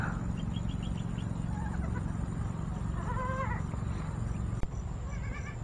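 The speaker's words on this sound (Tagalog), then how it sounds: "May bagong panganak na kambing." Faint goat bleats from newborn goats rise briefly through steady outdoor noise and a low hum, with one sharp knock near the end.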